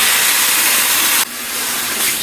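Marinated pork sautéing in a pan after garlic and onion, giving a loud, steady hiss that drops sharply partway through and then carries on at a lower level, with no voices.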